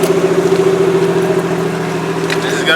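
A 1JZ-swapped Nissan 350Z runs close by with a loud, steady engine drone. Its even, humming rhythm holds throughout with no clear revving.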